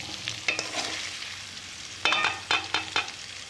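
Soaked dried fish frying lightly in oil, with a soft, steady sizzle under repeated sharp scrapes and taps of a spatula stirring the pan, close by.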